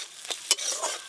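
Chili paste goes into a hot pan for a spicy crab curry with small eggplant, a brief close scrape of a spoon over a soft hiss of sizzling oil.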